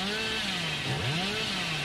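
The Hillbilly's chainsaw in the video game Dead by Daylight roars steadily and loud for about two seconds, its engine pitch dipping and rising again partway through, heard alone with no talking.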